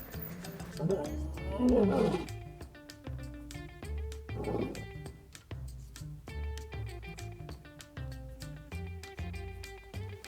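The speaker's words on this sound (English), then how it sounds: "that last little sound that you heard, that typical male lion fashion, he's been very lazy" A male lion roars in the wild near a dry riverbed, several deep, rumbling calls rising and falling over about ten seconds, fairly close and loud against steady background music.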